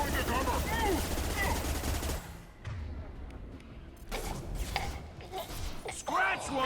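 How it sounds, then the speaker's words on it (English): A rifle shot in a Mass Effect shooter game on Insanity difficulty, Infiltrator class, delivered as heavy sharp gunfire bursts with impacts, then quieter gaps, then more shots and clatter. "Firing a high-impact shot."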